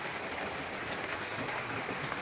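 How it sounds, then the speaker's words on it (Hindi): Rain pours steadily on a forest during a storm, a dense, even hiss filling the whole stretch with no voices and no breaks. "बारिश उन्हें पूरी तरह से भिगो रही थी"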